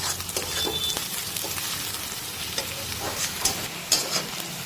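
Browned paneer fries in a pan for dhaba-style paneer masala, giving a continuous close sizzle broken by scraping stirs and a few sharp pops, with no talking.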